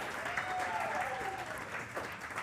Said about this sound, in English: Let's give a huge round of applause for such a fantastic team